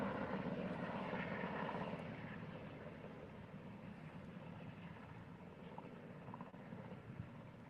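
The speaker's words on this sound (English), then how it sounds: "there's another helicopter right there" A helicopter flies near a wildfire scene, giving a faint, steady engine and rotor drone that eases a little after the first couple of seconds and carries on without speech.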